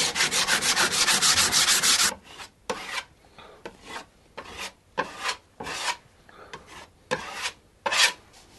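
Sanding a wooden toilet seat board for a dry toilet build, heard up close as a fast continuous rasping scrub that breaks into slower separate strokes.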